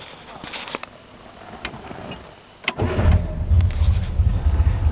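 A car driving the back roads of central western Vermont: a quiet cabin with faint clicks first, then the engine rises into a steady, close low rumble.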